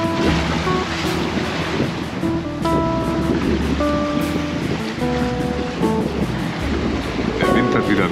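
Ocean waves slosh and surge continuously around a sailboat at sea off Mexico, mixed with wind of about 25 knots and creaking, tonal rigging sounds.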